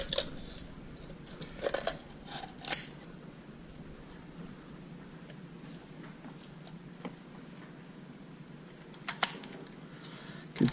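Kitchen scissors cutting the backbones out of whole chickens for spatchcocking, scattered sharp crunching snips and clicks at irregular intervals, close but fairly quiet.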